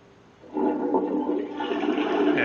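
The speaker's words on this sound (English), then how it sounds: "Quite a decent flush. I love the sound." A Twyford toilet with a concealed high-level cistern in a public washroom flushes after a short quiet lead-in, bursting into a loud, steady rushing roar of water that holds to the end, with no voices.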